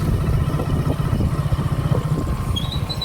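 A motorbike rides along a rough, partly broken village road at dusk, its engine a steady close rumble with a faint high whine near the end.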